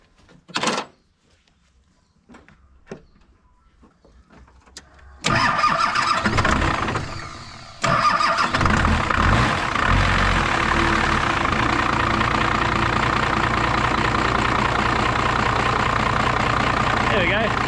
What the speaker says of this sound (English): There we go. Much nicer starting and quicker.